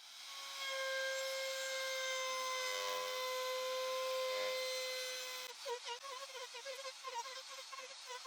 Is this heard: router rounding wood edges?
yes